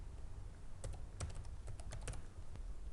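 Typing on a computer keyboard while entering a vault name in SOLIDWORKS PDM Professional software: a quick, irregular run of light key clicks over a low steady hum, close and quiet, with no talk.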